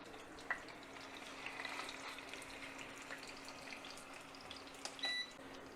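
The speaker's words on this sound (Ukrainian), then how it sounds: "Олія розігрілась, викладаємо котлети." Steady, crackling sizzle of nettle cutlets frying in hot oil over medium heat, with a few faint clinks and a short beep near the end.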